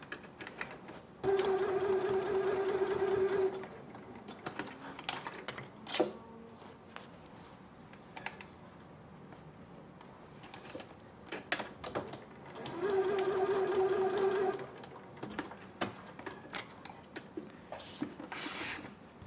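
Sewing machine stitching a fabric sewing organizer basket in two steady whirring bursts of a few seconds each, with clicks, rustling and handling noises between them.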